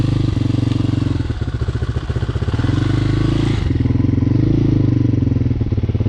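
A High West Hawk 250cc street-legal dirt bike engine idles while warming up, a loud, close, steady single-cylinder putter with a brief dip in revs midway.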